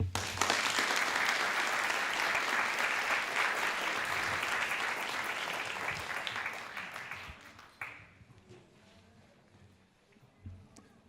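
Sustained applause from a high school graduation ceremony audience, loud and steady for about eight seconds before tapering off into scattered claps and quiet room sound.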